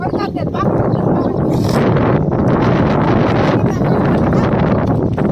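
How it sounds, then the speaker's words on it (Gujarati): Strong wind buffets the microphone in loud, rumbling gusts that roar continuously and rise and fall slightly throughout. "પવન આવ્યો"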